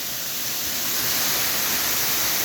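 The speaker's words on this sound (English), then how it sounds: "We're at Hostin's Waterfall in Maine." Houston's waterfall in Bingham, Maine, with a long drop: a dense, continuous roar of falling water, loud and close, steady from start to finish with no voices.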